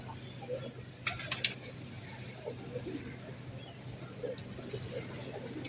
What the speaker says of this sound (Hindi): ये इनके कबूतर हैं